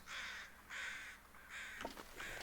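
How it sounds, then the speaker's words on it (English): Crows in The Long Dark caw in four drawn-out, harsh calls with short gaps between them, set against a quiet game ambience. "But I hear more crows."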